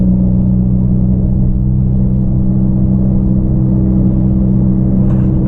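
A 2018 Honda Accord with a damaged clutch drives along, giving off a loud, steady low engine rumble and drone from inside the cabin with little change.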